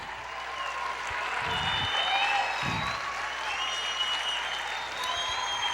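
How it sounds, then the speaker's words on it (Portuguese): Congregation applauding during a Pentecostal-style church service, sustained broadband clapping throughout with a steady crowd wash, a few louder bursts standing out, and faint tonal sounds in the background. "Aplauda mais"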